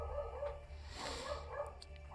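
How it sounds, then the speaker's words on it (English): A dog barks indoors during a Crusader Kings II gaming live stream, with a few short, moderately distant barks and yips scattered over a steady low room hum. "Apologies for the dog barking."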